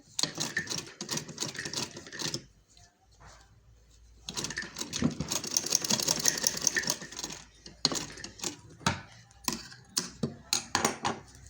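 A sewing machine stitches a zip onto a sharara or lehenga in close, rapid bursts of mechanical clatter, broken by short pauses and a quieter stretch partway through.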